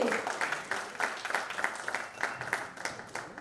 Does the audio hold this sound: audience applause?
yes